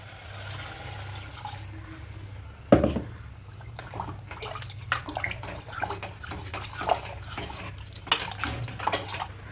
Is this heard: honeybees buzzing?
no